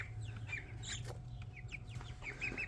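Two-week-old Cornish Cross chicks peep and cheep in a busy chorus, soft and close, over a steady low hum in a brooder box.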